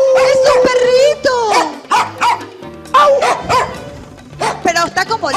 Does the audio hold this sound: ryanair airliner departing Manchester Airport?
no